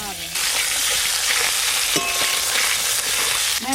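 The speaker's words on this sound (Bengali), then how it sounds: "ডিমগুলো ভালো করে ভেজে নেব" Duck eggs frying in a pan give off a loud, steady hiss of hot oil up close, with a few brief scraping touches of a spatula and a faint tonal whine near the middle; no voices.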